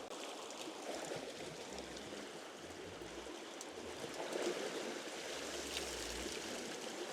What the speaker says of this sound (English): So here's our fish wheel working.